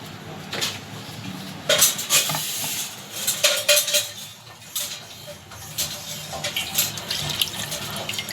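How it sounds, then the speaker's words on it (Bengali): A metal bowl is rinsed at a kitchen sink under a running tap, with water splashing, dishes clinking and a few sharp knocks as it is filled for a thin goat meat curry. The sound is close and fairly loud, with no talking. "গামলাটা ধুয়ে আমি জল দিয়ে দিলাম"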